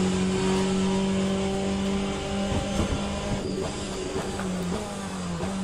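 Race car engine in the Le Mans Ultimate racing game at Sebring, a loud harsh droning tone that rises and dips as revs shift, with a few gear-change blips midway.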